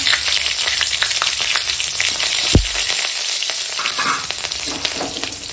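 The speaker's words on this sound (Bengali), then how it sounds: "এখন এই লঙ্কাটা তেলের উপর দিয়ে দিলাম" Green chili sizzling and crackling in hot oil in a pan, a steady loud frying hiss throughout with one brief sharp burst partway through.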